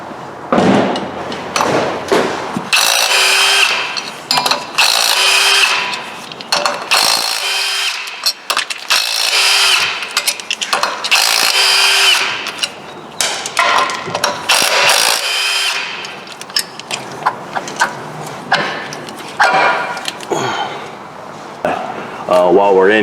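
A power tool works on the flywheel bolts of a 2005 Honda Civic during a clutch replacement, with repeated loud whirring bursts and ratcheting close by, and someone talks between and over them.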